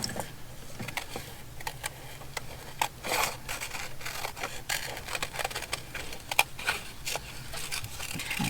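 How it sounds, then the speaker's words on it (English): Scissors fussy-cut around a paper picture for thread spool labels, giving a close series of soft snips and paper rustles in an uneven rhythm with no talking. "So I'm just going to fussy cut around her here."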